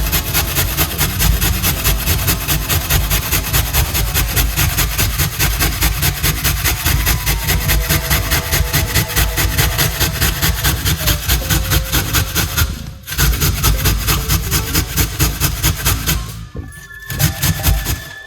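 Cabbage and other vegetables for a creamy Jamaican coleslaw rasp rapidly against a hand grater in a fast, even back-and-forth rhythm, loud and close, with two brief pauses.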